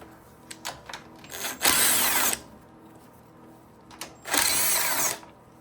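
A power drill backs out screws to remove a cover on an Ariens Deluxe 30 snowblower, with a few quick clicks and two longer whirring bursts, close and clear with no speech.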